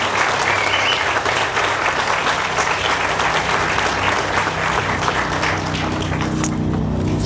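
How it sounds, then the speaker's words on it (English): An audience at a highway ribbon-cutting ceremony for the I-15 Limonite interchange claps steadily and loudly for several seconds, a dense, continuous outdoor applause with no talking over it. "let's give them a round of applause"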